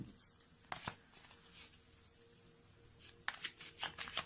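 Oracle cards in a love-themed tarot reading are riffled and drawn, giving two bursts of close, crisp papery shuffling separated by a quieter stretch, with no talking.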